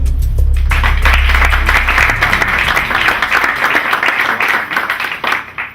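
Audience at a book presentation breaking into applause, a low rumble at the start giving way to sustained clapping from a modest crowd that thins and fades near the end.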